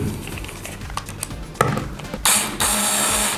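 A Ferm Power CDM 1132 cordless drill driving a screw into timber: scattered clicks and taps of handling, then the motor whirs up in a loud, close burst, pauses briefly and resumes.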